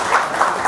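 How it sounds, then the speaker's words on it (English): Short burst of audience applause at an agriculture technology conclave in India, a dense steady wash of many hands clapping with no speech over it. "A loud applause, ladies and gentlemen."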